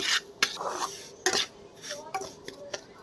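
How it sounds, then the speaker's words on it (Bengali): A spoon stirs semolina frying in ghee in a pan, giving a few sharp metallic clinks and scrapes spread over a few seconds against a soft background hiss. "এবার নেড়ে নেবো, একটু ভাজা ভাজা হবে তারপরে।"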